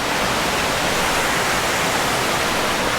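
Forth Falls near Wilmot, Tasmania, a waterfall plunging toward Lake Barrington, heard as a loud, constant broadband roar of rushing water with no breaks and no voices.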